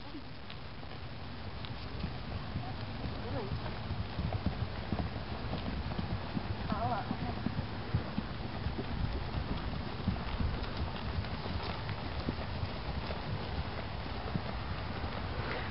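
Horse hooves thud and clip-clop at a walk on the ground of a round pen, a steady soft rhythm under constant outdoor wind noise, with faint voices in the background.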